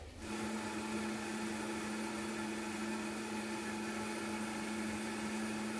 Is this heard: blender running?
yes